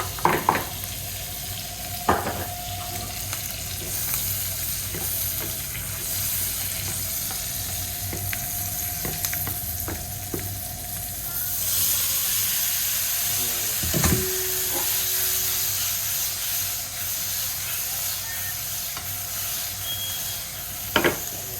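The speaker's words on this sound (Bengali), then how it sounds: "গার্লিকটা হালকা সতে করে নেবো" Chopped garlic sautéing in melted Amul butter in a pan, a steady close sizzle and crackle throughout, with occasional clinks of a utensil stirring, and no talking.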